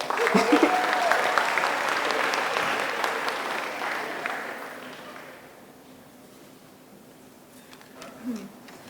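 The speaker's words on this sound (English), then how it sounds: "So give a round of applause for her." A campus audience at a student event gives a round of applause, dense clapping that holds steady and then fades away over several seconds, with some talk and a brief sound near the end.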